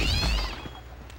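A cat in The Simpsons Hit & Run gives a single clear meow, loud and up close, fading out within about a second.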